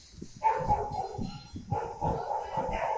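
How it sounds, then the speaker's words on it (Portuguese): A dog barks repeatedly at a gas station fuel court, several short, moderately loud woofs in irregular bursts over a faint background hum. "Cachorro latindo, é assim mesmo, tá pessoal?"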